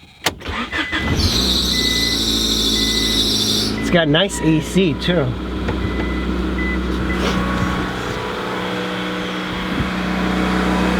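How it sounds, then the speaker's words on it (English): A 1991 Honda Accord with a manual transmission starts up and settles into a steady, close engine idle, with a brief squeal early on. Someone talks over the running engine. "Let's go ahead and start this car"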